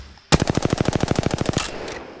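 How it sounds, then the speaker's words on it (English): Automatic weapon fire in the Apex Legends video game, a rapid burst of about fifteen close, loud shots in quick rhythm, then a short fading tail. "Getting shot at."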